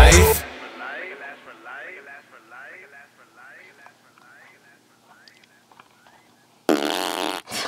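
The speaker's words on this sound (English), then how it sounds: "He does a random fart noise." A comical fart-like noise sounds within a song, among soft chirping, warbling tones in a quiet passage, framed by bursts of loud full music at the start and end.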